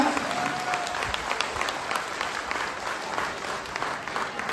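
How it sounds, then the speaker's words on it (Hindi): An audience applauds a group of people from Nepal, with sustained, even clapping from a large crowd, fairly loud and steady with no talking over it. "मैं चाहूंगा इनके लिए कोई जोरदार तालियां यार"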